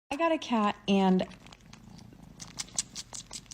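A cat purrs in a low, continuous rumble close by, after a few short meow-like calls at the start.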